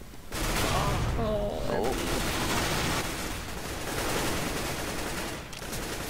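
Desert Eagle and P90 gunfire in a video game crackles as rapid, dense bursts throughout, with a brief voice exclamation and game sounds mixed in.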